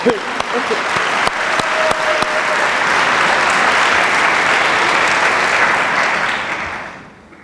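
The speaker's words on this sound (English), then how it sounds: "just a round of applause just for my mom" A crowd applauds loudly at a graduation baccalaureate Mass, the clapping swelling into a dense, steady roar before fading out at the end.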